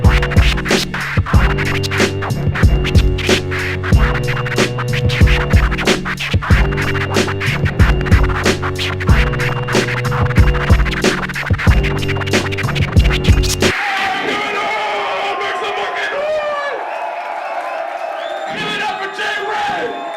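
Rapid turntable scratches chop over a loud repeating beat, then the music drops away into crowd cheering and shouting.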